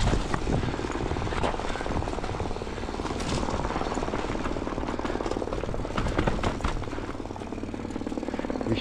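A helicopter flies overhead with a loud, steady, throbbing rotor roar that fills the whole stretch without letting up.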